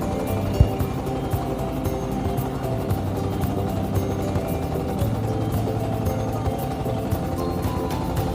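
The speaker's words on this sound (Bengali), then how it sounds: "ব্রিজের নিচে নৌকা দিয়ে অনেক দিন পর যাচ্ছি" A boat travelling on a river under a bridge, a steady droning engine with low rumble and light water wash, continuous and fairly loud, no talk.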